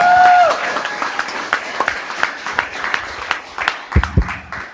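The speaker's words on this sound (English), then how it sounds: "Let's give him a big round of applause for Wesley." A small audience at a consumer pitch competition claps for a founder about to pitch, with sparse, uneven claps that thin out and leave a few isolated hand claps near the end.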